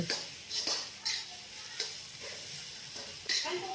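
A spoon stirs North Karnataka roti oggarane, crumbled flatbread tempered in a pan over a medium flame, giving soft sizzling under repeated sharp scrapes and clinks against the pan at an uneven rhythm, close and fairly quiet.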